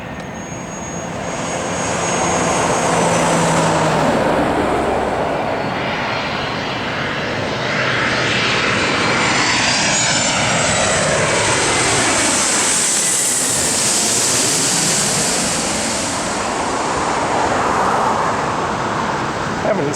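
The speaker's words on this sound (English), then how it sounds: "And here comes an airliner." An airliner's jet engines roar overhead at Atlanta's ATL airport, a loud broadband rumble that swells and sweeps in pitch as the plane passes close. A fainter whine of engines can be heard beneath the roar.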